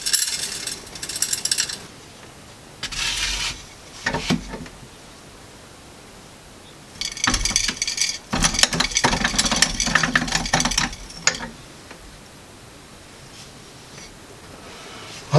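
A cheap hand-cranked grain mill grinds grain in rough bursts of mechanical grating and ratcheting, separated by short pauses, fairly close and with no voices.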